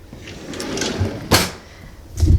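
A kitchen drawer slides open or shut with a short, sharp rattle near the middle, followed by a duller thump a moment later, close by in a quiet room.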